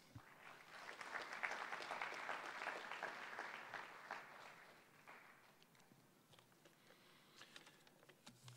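An audience at a customs conference applauds to welcome a speaker. The clapping is dense and fairly soft, swells early and then thins into scattered claps toward the end.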